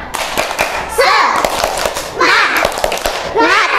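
Schoolchildren in a classroom do a rhythmic spirit clap chant with their teacher, sharp claps and thumps in a steady pattern mixed with bursts of children's chanting voices, close and lively.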